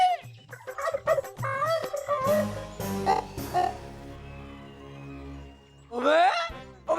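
A hen in a cartoon gives a run of choppy, irregular clucks and squawks, loud and close, with a final rising squawky call after a brief pause.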